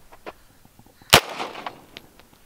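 A gunshot fired at a bulletproof plate cracks as one loud, sharp blast with a brief rattling tail, set among a few softer clicks and knocks.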